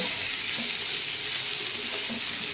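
Amla pickle with salt and turmeric powder is stirred in a hot pan, giving a loud, unbroken sizzle with faint scraping underneath.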